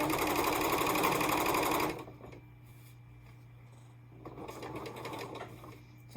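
Sewing machine stitching quilt pieces together, a loud fast whirring run for about two seconds, then a quiet hum and a softer second burst of stitching near the end.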